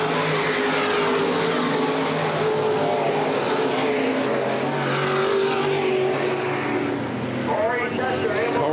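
Open wheel modified race cars at Baer Field Speedway, loud continuous engine roar from a pack of cars circling the track, with an announcer talking over it.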